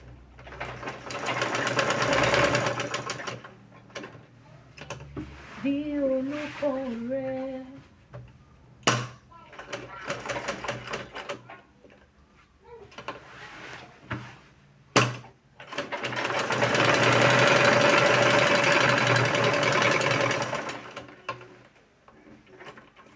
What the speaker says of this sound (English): From here, just going to top stitch.